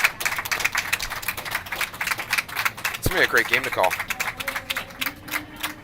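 Round of applause at a college curling championship, scattered clapping and crowd rattle under a commentator's close voice.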